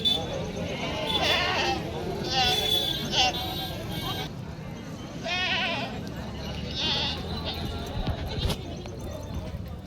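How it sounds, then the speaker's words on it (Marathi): Goats bleat repeatedly at a crowded weekly goat market in Vasmat, Hingoli district, several loud calls near and far overlapping with steady crowd murmur, while someone talks throughout. "तुम्हाला मी आज घेऊन आलेले आहे वसमतच्या शेळी बाजारामध्ये"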